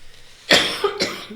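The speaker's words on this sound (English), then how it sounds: "There's coughing throughout this." Two sharp coughs from a person on a podcast recording, close and fairly loud, spaced about half a second apart with a brief voiced tail after each.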